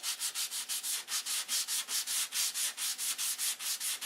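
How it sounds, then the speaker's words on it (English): An airplane wing is hand-sanded before priming, a close, loud rhythmic rasp of regular back-and-forth strokes, roughly four per second, with no voices. "this is 2 days progress on sanding and priming"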